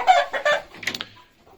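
A hen clucks loudly and close by in a quick series of short, throaty calls that fade out toward the end.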